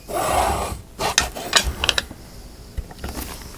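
A bone folder rubs and burnishes the top edge of a handmade book cover decorated with lace and ribbon, giving short scraping strokes in a few quick bursts, close and clear with no talk.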